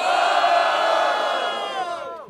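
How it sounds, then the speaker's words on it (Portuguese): A crowd at a rap battle roaring with cheers and shouts, a loud sustained collective yell that swells and then tapers off at the end. "Quem finalizou foi o Guri, quem acha que ele foi melhor faz barulho"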